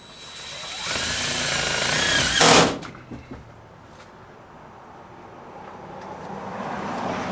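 A power drill drives a self-tapping screw into a car's sheet-metal roof over a deleted sunroof, a rising whirring whine for about two seconds that ends in a sharp grinding burst, followed by quiet shop ambience.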